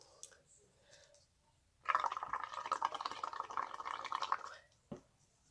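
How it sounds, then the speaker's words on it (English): A steady bubbling gurgle, as if air is blown through a straw into liquid, runs for a few seconds, close and fairly quiet, then stops. "You're going to blow the bubbles"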